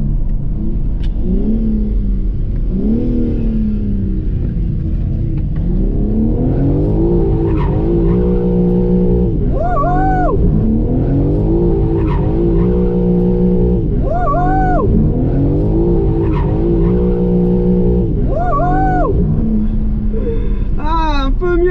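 BMW M3 Touring drifting in drift mode, engine revving hard in repeated rising surges with tires skidding and squealing throughout, loud and close, with a voice talking over parts of it.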